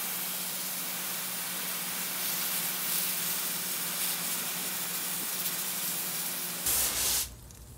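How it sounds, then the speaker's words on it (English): A steady, loud hiss of water spraying from a garden hose onto cacti and succulents to wash off mealybugs, running continuously and ending in a brief louder burst near the end. "you're just gonna hose off the pest as much as you can"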